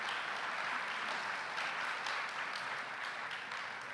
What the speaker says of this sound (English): give them another round of applause for that.